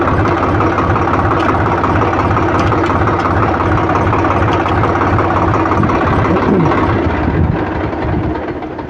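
Swaraj tractor with a clutch plate problem, its engine running loud and close in a steady low rumble while gears are shifted, without clear individual gear clunks, tapering slightly at the end.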